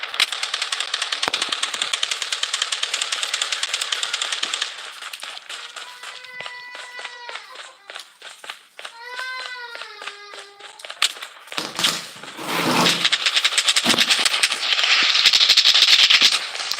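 Video game gunfire in Blood Strike battle royale: rapid bursts of shots at the start and again near the end, with chirping tonal game sounds in between and some overlapping talk.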